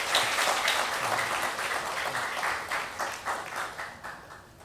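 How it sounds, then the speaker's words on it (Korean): A church congregation claps together during a Sunday worship service, a moderately loud round of applause that gradually softens and fades out. "인사드리고 박수하십니다."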